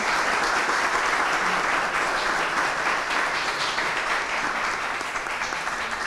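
Audience applauding a singer, a full, sustained burst of many people clapping without pause.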